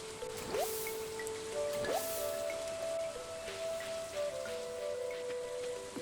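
Rain in the Stardew Valley farming game, a faint steady patter of raindrops with soft game chime tones layered over it and no talk.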